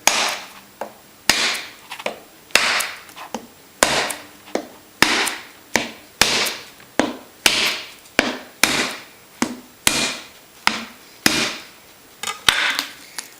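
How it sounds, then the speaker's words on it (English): The back of a knife strikes a Thai coconut in a rapid, regular series of about eighteen sharp, hollow knocks, close and loud, with no voices. "Just hit it with the back of the knife."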